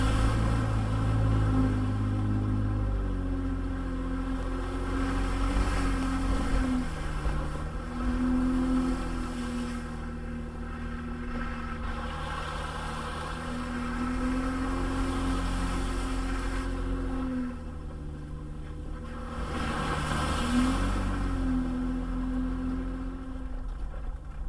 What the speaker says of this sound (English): Here I'm driving on what's called the Florida Trail